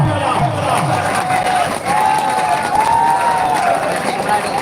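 A crowd at an all-Kerala tug-of-war contest raises a steady, dense roar of cheering and clapping, loud and continuous throughout, with voices blended into the din.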